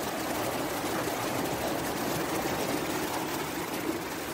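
Floodwater from the 2021 Hilden flood rushes in a steady, faint wash, a constant hiss with no voices.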